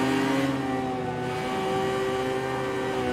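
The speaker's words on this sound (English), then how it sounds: "What a noise this car makes when you get to open the taps." Race car engine in a VR racing game held at full throttle, a steady loud drone with a slight pitch climb, close and continuous with no voices.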